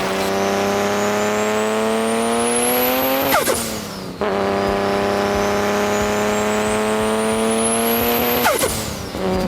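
A Toyota Supra engine revs up in two long rising sweeps, loud and close, dropping back sharply between them.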